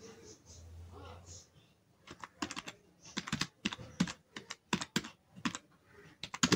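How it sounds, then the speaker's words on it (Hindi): Keyboard typing while entering Hindi text in the PixelLab app: a rapid, uneven run of close, crisp key clicks, with a brief voice near the start before the tapping begins. "तो देखिए मैं आपको टाइप करके दिखाता हूँ।"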